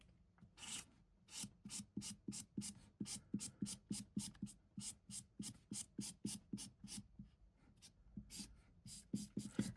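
Colouring on card by hand, a rapid series of scratchy back-and-forth strokes in steady bursts, close and soft with short pauses between passes, nothing else heard.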